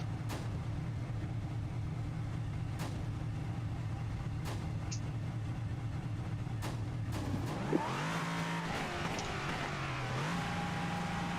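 In a racing video game, an LMP3 race car's engine drones steadily at Daytona, a low continuous hum that shifts pitch near the end as the revs rise and fall, with no one talking.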